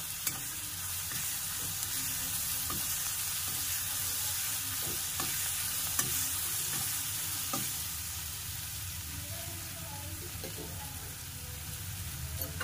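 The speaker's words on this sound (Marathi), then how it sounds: "आता याच्यामध्ये हिरवी मिरची अद्रक लसूणची पेस्ट टाकायची, कोथिंबीर ते पण चांगलं तेलामध्ये परतून घ्यायची" Green chili, ginger and garlic paste with coriander fries in hot oil, giving a steady, dense sizzle with occasional stirring clicks throughout, alone and close.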